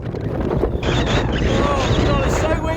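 Heavy wind roars across the microphone outdoors on a walk, a loud continuous low rumble with rushing gusts throughout and no clear talk.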